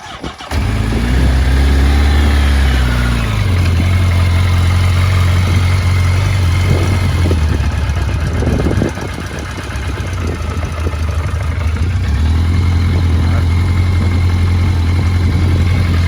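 A 1988 Yamaha FZR750 motorcycle engine idles after a cold start, a loud, close, steady rumble that holds throughout with only a brief dip midway, and no one speaks.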